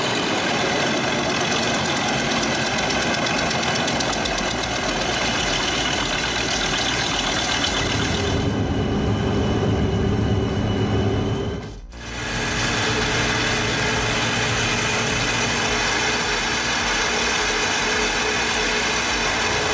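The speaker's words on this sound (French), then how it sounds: "C'est le broyeur ultime pour toute opération forestière sérieuse." Loud, steady engine drone from a truck-mounted wood shredder with a 730-horsepower engine running continuously, with a brief dip partway through before the roar resumes.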